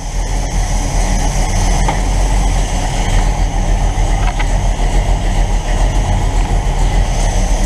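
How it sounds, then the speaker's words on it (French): A 1969 Dodge Charger engine idling right after a carburetor swap, a steady loud low rumble that holds evenly throughout with no talking. "Bon, le ralenti a l'air pas mal."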